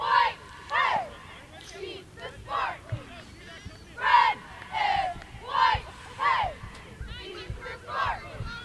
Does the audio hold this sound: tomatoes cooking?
no